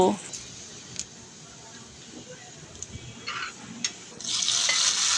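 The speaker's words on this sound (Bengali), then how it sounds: "এদিকে আমি কিছুটা পেঁয়াজ বেরেস্তা করে নেব" Onions frying in a pan for birista alongside a chicken kala bhuna: a low, steady sizzle with occasional stirring, growing louder and brighter near the end, under a woman's speech.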